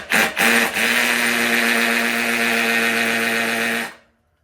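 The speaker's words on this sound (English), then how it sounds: "take an 8mm drill bit and just finish the hole off" A power drill with an 8mm bit whirs loudly and steadily for several seconds while drilling a hole during a Nuetech Prolock 360 install, then winds down to silence.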